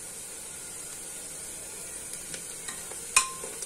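Ginger garlic paste fries with golden onions in a pan for pulao, giving a soft, steady sizzle with a few light stirring clinks near the end.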